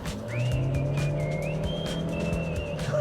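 A Chery Tiggo 4 Pro, a small city SUV, pulls away from a standstill in a seaside village, its engine holding a steady, moderately loud drone that climbs gently in pitch with no talk over it.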